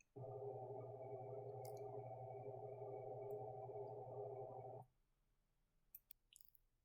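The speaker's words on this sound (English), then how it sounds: "she's got the white noise machine on" A white noise machine running beside a sleeping baby: a steady, droning hum with a buzzy tonal quality that holds evenly for nearly five seconds, then cuts off, leaving faint clicks and rustles.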